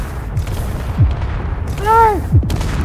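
An automatic turret opens fire on a player in the multiplayer survival game Space Engineers: a few short, punchy shots and thuds over a steady rumbling background, with a brief rising-and-falling electronic tone in the middle.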